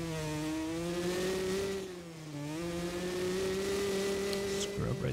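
A 2-stroke dirt bike engine in MX vs ATV Legends revs hard and steady in fifth gear up a hill, the high whine dipping briefly then holding near over-rev, with a commentator talking in the background.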